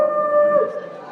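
A mimicry artist imitates a dog howling on stage, giving one sustained, wavering howl that is close and clear, then fades out.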